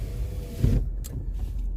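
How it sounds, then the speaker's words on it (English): A car's power window whirs shut over steady engine and road rumble, with a soft thump as it seals. "That was my window closing."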